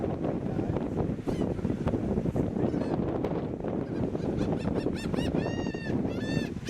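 Gulls crying and squawking in repeated short calls over strong wind buffeting and rumble outdoors, the calls growing more frequent and louder toward the end.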